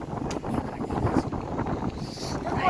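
Wind gusting steadily across an open grassy hillside as rain approaches, a rough, blustery rumble buffeting the microphone for the whole stretch, with no voices.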